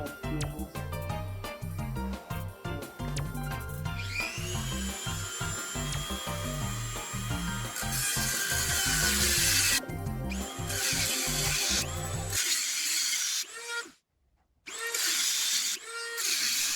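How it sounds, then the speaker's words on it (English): A Dremel rotary tool cuts through an aluminum part while a K20 engine is pulled from a Civic Si, giving a steady high-pitched whine with grinding bursts, loud and close, dropping out briefly near the end before resuming. "trying to cut out this aluminum with the Dremel"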